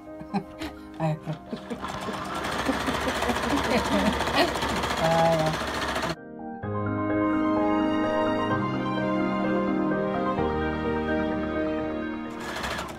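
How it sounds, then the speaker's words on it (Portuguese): Sewing machine stitching a fabric patchwork rug shaped like a fish, a rapid steady mechanical hum and clatter close by, starting and stopping, with someone talking over the first part. "Agora eu vou passar uma costura para poder recortar já esse excesso do rabo."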